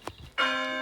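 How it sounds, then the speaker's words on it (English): A chiming bell-tower ringtone on an iPad rings out loud and sustained, a bright bell tone with ringing overtones that starts abruptly after a faint moment and holds steady. "Bell tower."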